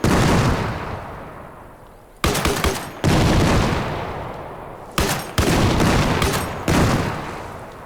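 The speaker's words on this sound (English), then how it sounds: "I'll give you guys a quick demonstration of how fast these grenades fire off." A Mark 19 grenade launcher in Arma Reforger fires in several sustained rapid bursts, each a loud, dense, booming stream of launches separated by short gaps, with no voices.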